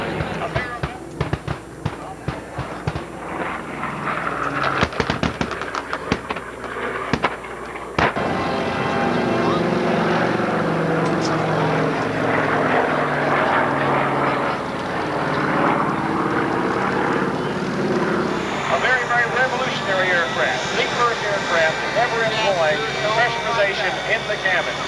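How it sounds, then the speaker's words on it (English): P-51 Mustangs flying alongside a Boeing B-29 Superfortress at a World War II reenactment airshow, a loud sustained drone of piston engines passing overhead, with sharp bangs early on and an announcer talking over it. "Here come the P-51 Mustangs alongside the Boeing Super Fortress."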